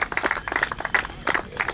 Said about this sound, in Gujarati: તાળીઓની ગડગડાટ રૂકવી ના જોઈએ ભાઈઓ